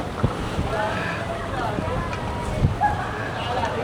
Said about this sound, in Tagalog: Hala, lakas ang hangin.